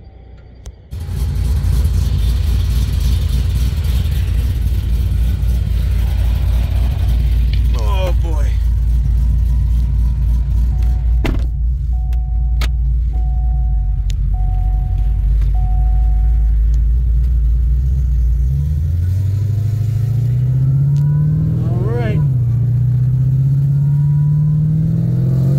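A 2022 Porsche 911 Turbo S on bolt-ons and 93 octane and a built 2012 Cadillac CTS-V with a Kong 2650 supercharger roll race from 50 and 60 mph, a loud sustained engine roar that climbs in pitch as both cars pull hard, with people talking over it.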